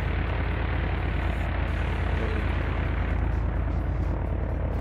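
A simulated aircraft engine in the X-Plane 11 flight simulator, on a flight from EGBJ to EGVA, drones steadily and loudly for the whole stretch, a constant broadband roar with no break and no voices.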